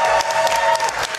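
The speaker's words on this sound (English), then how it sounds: "So let me hear it out there in the crowd for Whitman." A live crowd at the Awesome Games Done Quick 2018 speedrun marathon applauds and cheers for a Teenage Mutant Ninja Turtles any% run, with dense, steady clapping and whoops filling the room throughout.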